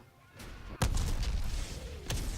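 Explosions in the Medal of Honor: Warfighter war game, a sharp blast followed by a sustained rumbling roar and a second thud near the end, loud and close with no talk.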